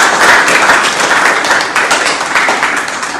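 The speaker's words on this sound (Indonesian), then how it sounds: "tepuk tangan untuk semuanya." Applause in a classroom during an Islamic religious education lesson, a dense, steady wash of many hands clapping together, loud and close, lasting a few seconds before easing slightly.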